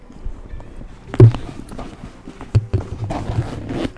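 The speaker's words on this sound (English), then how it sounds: "Let's see how the zipper is." A few soft handling knocks, then the zipper on a BABALA handbag rasps open up close in a brief smooth pull.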